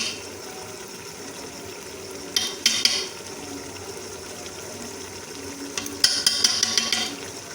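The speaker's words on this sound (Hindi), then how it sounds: "अब हम इसमें जो है 4 चम्मच के करीब दही और डालेंगे" Yogurt goes into kachnar mince in a pan, with two short bursts of a spoon clinking and scraping against the metal over a low background hush.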